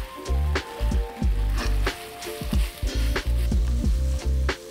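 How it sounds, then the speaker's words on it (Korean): Onions fry in oil in a pan while a spoon stirs them, giving a loud, close sizzle. Clattering scrapes come through in short bursts. "여기다가 양파를 볶아요."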